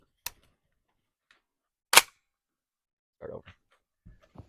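A single sharp, loud shot from an AAC Honey Badger prototype rifle chambered in 300 Blackout, a brief crack amid otherwise quiet surroundings with a few smaller clicks and knocks.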